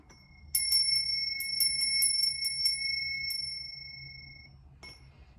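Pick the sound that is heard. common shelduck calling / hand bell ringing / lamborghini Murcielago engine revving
hand bell ringing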